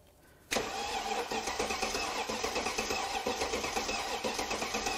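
A 500HP Mercedes CL55 AMG that sat for seven years cranks over after a brief quiet moment, its starter churning loudly and steadily in a rapid rhythmic pulse without catching.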